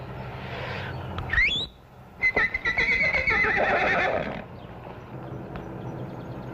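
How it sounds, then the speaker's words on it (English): A horse in a stable gives a loud, close whinny with a rising squeal and shuddering, pulsed neighs lasting a couple of seconds over a quiet background. "So, 'twas a horse you was wishing after, was it?"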